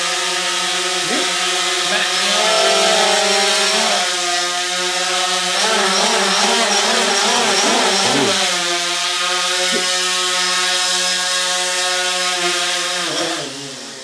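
Loud buzzing whine of drone propellers spinning nearby, pitch rising and falling as the motors speed up and slow down.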